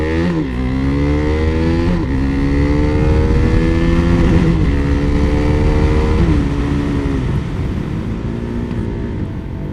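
A first-generation KTM Duke 390 motorcycle engine revs hard and accelerates, its rising harmonic tone stepping up through repeated gear-change dips, loud and close throughout with no talk.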